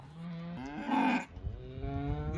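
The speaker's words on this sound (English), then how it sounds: "And then all the other cows started yelling." Several cows moo loudly on a rural road, long harmonic bellows rising and overlapping, the strongest calls swelling in the middle and then trailing into lower lowing.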